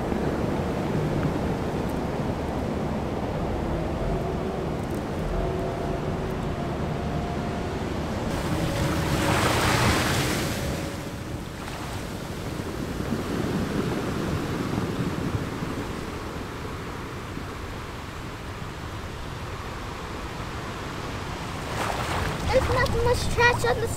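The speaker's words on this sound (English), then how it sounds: "On the side of the ocean today." Ocean waves washing onto the shore, a continuous rushing surf with a swelling surge midway and steady wind buffeting the microphone throughout.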